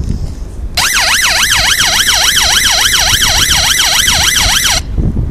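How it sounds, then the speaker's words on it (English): An electronic bike horn plays a loud, steady wailing siren like a police alarm, rising and falling in rapid regular sweeps for about four seconds and then cutting off, with faint background noise before and after. "sounds like a video game police alarm to me"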